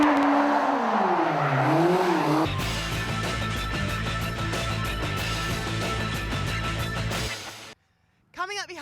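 A Dax Rush sports car doing donuts at Santa Pod, a drawn-out, wavering tire squeal, then a loud, rough engine roar before it cuts off abruptly, with people talking nearby.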